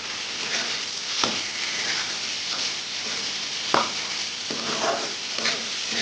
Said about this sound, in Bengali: মশলাটা একটু কষানো হলো